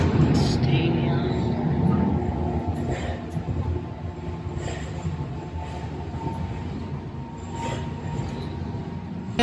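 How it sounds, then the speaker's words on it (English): Train pulling away, a steady loud rumble of rail wheels and carriage noise close by, with occasional squeaks and people talking under it. "Train's leaving me now."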